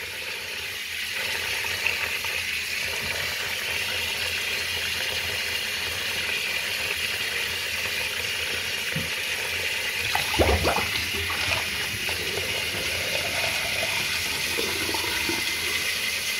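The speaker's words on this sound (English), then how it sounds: "I'm rinsing my face off now." Tap water runs steadily into a bathroom sink during face rinsing, a constant close hiss with occasional splashes from hands and water hitting the basin.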